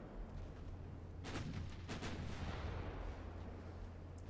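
Battleship gunfire in a naval battle game: two or three heavy, booming salvos stand out over a low steady engine rumble, with no talk.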